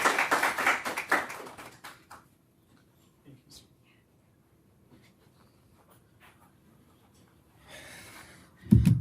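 An audience applauds at a talk event. The burst of clapping starts close and lively, then fades out within about two seconds into a quiet room with faint rustles and taps, and ends with a loud thump.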